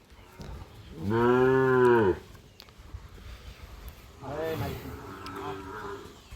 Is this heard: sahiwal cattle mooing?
yes